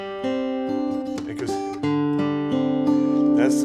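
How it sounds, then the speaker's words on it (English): A banjo in clawhammer style plays a few close, ringing plucked notes. The notes overlap and sustain in a bright, twangy cluster, with soft background noise between picks. "that's the sound of the banjo"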